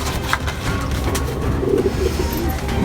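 Soft, low cooing of a prize-winning show pigeon repeats a few times over a steady background hum.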